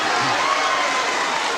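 A 1984 UK wrestling crowd, watching Marty Jones against Fit Finlay, gives a brief, loud, steady roar of cheering and shouting with little talk over it.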